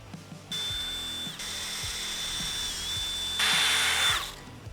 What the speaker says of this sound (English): we've got our holes drilled